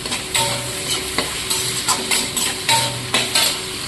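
Chopped tomato frying in a pan, a close, steady sizzle with regular stirring strokes scraping through every half second or so, no voices.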